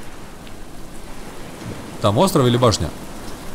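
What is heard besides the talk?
rain in the video game Stranded Deep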